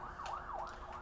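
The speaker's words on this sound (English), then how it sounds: "Sirens again." A faint wailing siren in the zombie survival game Project Zomboid, rising and falling in quick repeated sweeps, distant and quiet over low background noise.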